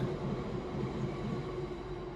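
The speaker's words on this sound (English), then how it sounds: "That's a fucking long train," Long freight train passing at a distance, a steady low rumble and rolling drone heard from several floors up, continuous and even throughout.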